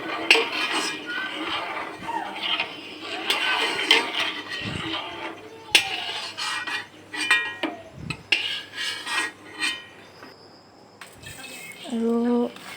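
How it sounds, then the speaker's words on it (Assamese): Milk is stirred in a metal pot for rice kheer, the spoon scraping and clinking against the sides in irregular strokes close by, with a voice talking over it in places. "মাজে মাজে গাখীৰখিনি মই লৰাই আছোঁ।"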